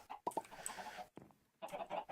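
Chickens cluck in the Minecraft Sky Factory 3 game, several short bursts of close, moderately loud clucking with a brief quiet gap between them.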